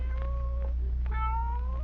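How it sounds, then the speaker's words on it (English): A cat meows in an old radio drama, with a rising, wavering cry repeated two or three times close by over a steady low hum, and no talking. "It sounded like a cat."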